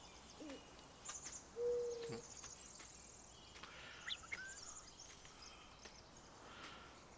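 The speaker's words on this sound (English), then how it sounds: "I hear a couple of hoot owls, which is kind of surprising for this time of day." A single low owl hoot sounds faintly against a steady hiss of insects, with scattered soft bird chirps in a quiet outdoor forest ambience in the video game Farming Simulator 19.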